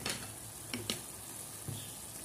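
Onion and raisins sizzle in a pan for a fish and potato tagine, a steady close frying hiss broken by a few sharp ticks and pops.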